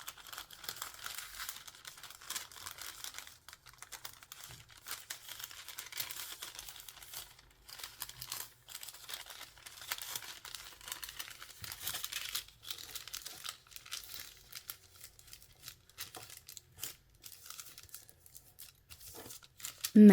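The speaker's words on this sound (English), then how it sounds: "Fold the bamboo pleats like this." Paper crinkles and rustles as bamboo pleats are folded into a cushion cover pattern, soft irregular crackling that comes in bursts close by, faint overall, with no talking.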